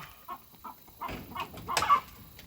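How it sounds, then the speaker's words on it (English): Hens cluck loudly on a small farm as they get ready to lay, giving a string of short, uneven calls that build toward a louder squawk, close by in an otherwise quiet setting. "Some of the loudest critters I have are the hens that decide they need to lay when I'm up here."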